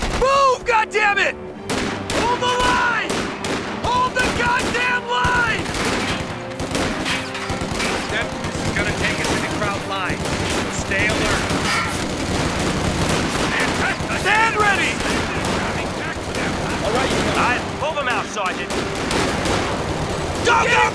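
Sustained battlefield gunfire in Company of Heroes 2, with dense machine-gun bursts and rifle shots rattling continuously throughout, loud and close, mixed with shouted voices and explosions.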